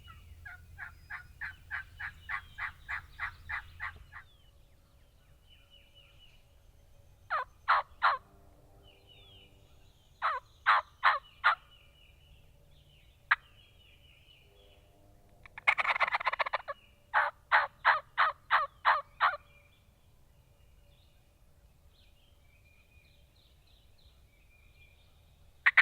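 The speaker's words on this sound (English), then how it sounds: "So we had a bird gobbling" A wild turkey gobbles repeatedly in the distance, its rapid rattling calls coming in several bursts separated by quiet stretches, over faint low outdoor rumble.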